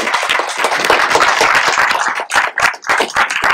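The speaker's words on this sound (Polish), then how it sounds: "wielkie brawa" Audience applause at a film premiere closing a cinema project, dense broadband clapping that is steady for two seconds, then breaks into uneven bursts and dips.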